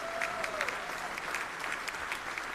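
A jazz concert audience at a university music school gives a short, steady round of applause for a student drummer, moderately loud dense clapping with a brief voice trailing off at the start.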